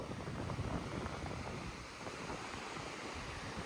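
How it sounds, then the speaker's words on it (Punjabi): Ocean waves wash onto Arambol Beach at sunset as a continuous, soft broadband surf roar mixed with wind, with no voices. "ਛੱਲਾਂ ਆ ਰਹੀਆਂ ਪਾਣੀ ਦੀਆਂ"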